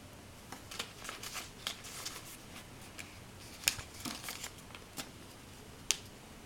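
Paper being folded into a flap by hand, with soft crinkles, creases and a few sharp crisp snaps at close range, quiet and without talk.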